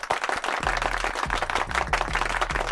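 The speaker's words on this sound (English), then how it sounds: "Let's give them a round of applause." A small group claps briefly, dense overlapping hand claps at close range with a few sharp individual slaps, alongside low thuds or hum underneath, lasting only a couple of seconds.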